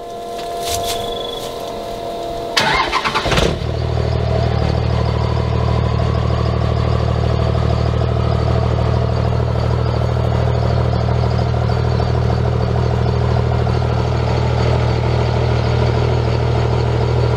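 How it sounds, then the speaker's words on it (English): A loud 2001 Dodge Cummins diesel pickup with a straight-pipe exhaust cranks on a cold start and roars to life with a brief clatter, then settles into a deep, steady, rumbling idle that carries on alone. "We promised you guys a cold start, so we're gonna do that for you. You ready to fire her up?"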